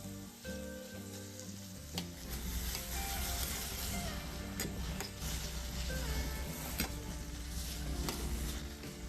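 Raw mango chutney with spices is stir-fried in a pan, a dense sizzle running throughout, punctuated by repeated scraping and clinking of the spatula against the pan.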